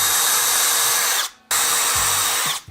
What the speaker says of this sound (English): So let's go ahead and drill those holes.